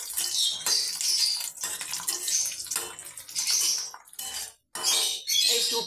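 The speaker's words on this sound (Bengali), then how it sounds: "গ্যাসটা একদম লো ফ্লেমে করে শুকটি মাছগুলো আমি ভেজে নেব" Dried fish sizzles in hot oil on a low gas flame, a loud, continuous crackling hiss that pulses and briefly drops out near the end.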